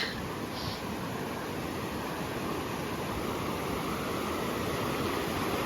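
Simon Creek on a mountain trail rushes past in a steady, full roar of flowing water, close and unbroken, with no voices over it.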